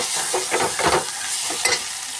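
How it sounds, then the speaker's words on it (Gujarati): Onions sizzle steadily in hot oil in a pan as a tempering for dal, broken by a few scraping stirs of a spoon. "ડુંગળીનો વઘાર કરી નાખ્યો છે"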